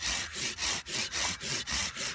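A CEuk Trojan saw cuts through a block of wood, with eight steady rasping strokes in an even back-and-forth rhythm, loud and close with no talking.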